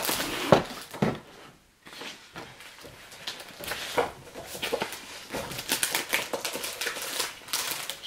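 A handheld paper punch cutting a decorative border into patterned paper for a boho wedding scrapbook album, giving a series of sharp mechanical clacks and crunches at an irregular pace, close and moderately quiet.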